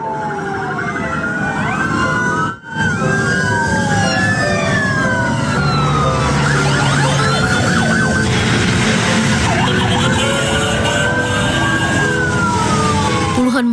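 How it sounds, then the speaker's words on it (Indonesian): Dozens of ambulances escort the body of an earthquake relief volunteer in a funeral convoy, their many sirens wailing and overlapping loudly and continuously over steady traffic noise. "Puluhan mobil ambulans mengiring jenazah relawan gempa NTT"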